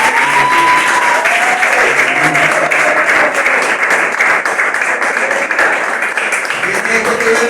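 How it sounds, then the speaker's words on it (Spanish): Sustained applause from a church congregation during a sermon, steady and dense throughout, with voices calling out faintly beneath the clapping. "Dar un aplauso a Cristo."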